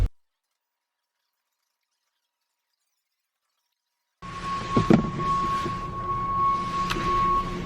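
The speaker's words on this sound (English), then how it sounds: "That is the sound of a snowplow." Silence for about four seconds, then a steady broadband rumble and hiss with a low engine drone rises in as a snowplow passes outside on a snowy day.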